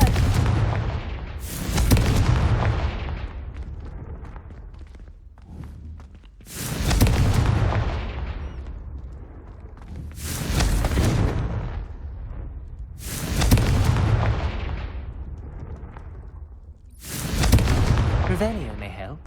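Confringo fire-blast spells in Hogwarts Legacy boom out one after another, five loud bursts spaced a few seconds apart, each decaying into a rumbling tail before the next.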